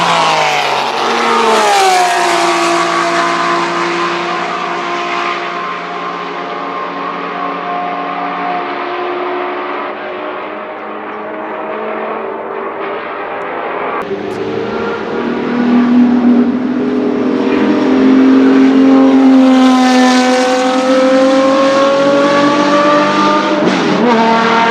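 Porsche race car engine in the racing game Need for Speed Porsche Unleashed, a loud continuous rev that rises and falls through gear changes at full throttle, with no speech.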